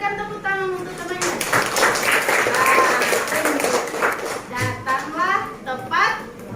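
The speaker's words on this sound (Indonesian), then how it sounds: "Berikan tepuk tangan untuk temannya." Classroom applause from schoolchildren for a classmate, brief bursts of clapping mixed with children's voices and a teacher talking.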